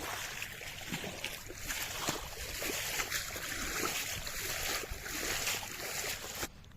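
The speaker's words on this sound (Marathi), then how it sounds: "पाणी येत तुमका दाखवूया बघा" Water pours into a field in the Konkan countryside, a steady rushing and gurgling flow heard up close and fairly loud throughout, with no one talking.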